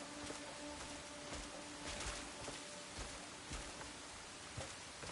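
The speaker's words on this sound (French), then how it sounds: "C'est parce qu'il pleut." Rain in the video game Crimson Desert, a steady, fairly quiet hiss of falling rain with faint droplet patter and a thin tonal hum underneath.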